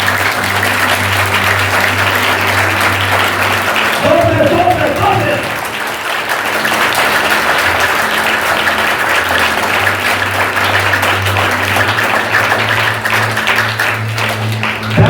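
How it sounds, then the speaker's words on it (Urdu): A church congregation claps loudly and continuously during a Urdu-language sermon, a dense wash of applause lasting throughout, with sustained keyboard or organ tones beneath and a voice calling out over it. "زور سے تالی کرو اس کے لیے."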